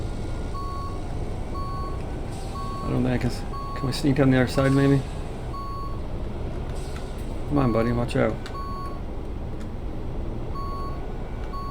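Truck reversing beeps in the driving game Big Ambitions, a steady train of short evenly spaced tones under low engine rumble, while someone talks intermittently over them.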